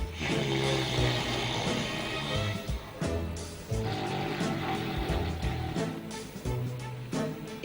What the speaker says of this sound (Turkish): Eşim derin uykuda, deprem oluyor gibi horultu sesleri geliyor.